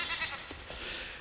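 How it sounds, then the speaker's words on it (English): A baby sheep or goat in the Enshrouded video game gives a single short bleat over a soft ambient game background. "now that little baby sheep or goat was not here before"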